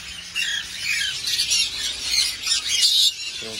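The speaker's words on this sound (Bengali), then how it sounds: "অনেক পাখি, প্রত্যেক পাখি দেখলাম ব্যাংককে এসে।" A crowded shop in Chatuchak bird market, Bangkok, full of lovebirds, rosellas, Gouldian finches and ringnecks, fills with constant harsh squawks and chirps overlapping close by.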